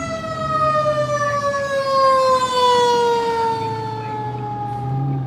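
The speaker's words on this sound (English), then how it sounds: "Fire truck 7." Fire truck Engine 7's siren wails loudly and steadily, its pitch sliding slowly downward over several seconds with a low engine rumble underneath, no talking.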